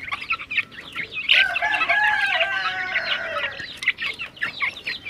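Rhode Island Red and native chickens in a backyard breeding pen, one rooster crowing loudly up close amid steady clucking from the flock, no talking.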